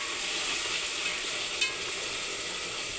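A spoon stirs a sizzling pan of food in which tamarind-leaf chilli powder has been added, giving a steady close frying hiss with faint scraping and no talk.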